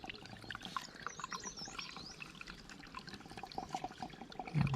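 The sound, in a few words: spring water flowing from ground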